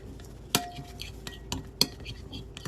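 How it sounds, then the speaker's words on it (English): A spoon scrapes and clinks against a bowl of melted chocolate in a few sharp taps amid soft stirring, close by, with faint talk in the background. "take them out of the microwave and stir them up."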